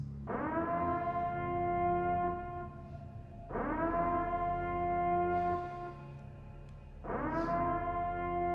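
A loud, steady siren wail sounds in three long blasts, each swelling up and holding for about three seconds with short breaks between them.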